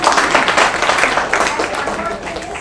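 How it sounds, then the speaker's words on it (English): Applause from a seminar audience at a hackathon event honoring a teacher's credentials, a dense, steady clapping texture filling the room throughout, with possible voices mixed in. "Big round of applause for her credentials"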